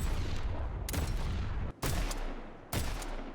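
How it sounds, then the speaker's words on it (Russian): Two different revolvers fire in the video game Deadlock, producing a dense, continuous crackle of gunshots with three distinct bursts about a second apart, loud and close. "А вот так выглядит стрельба из двух разных револьверов в дедлоке."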